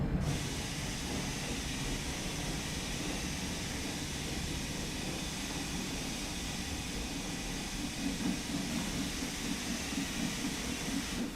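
An LMS Jubilee steam locomotive in Train Sim World 2 idles with a steady broad hiss and low rumble of steam, continuous and fairly even throughout with a slight rise in chuffing texture toward the end.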